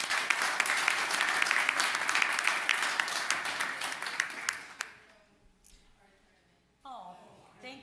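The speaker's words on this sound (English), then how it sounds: "let's give them and their coach another big round of applause" An audience at a city council meeting gives a big round of applause for a girls' team and their coach; dense, loud clapping runs about five seconds, then dies away to near silence before a voice speaks.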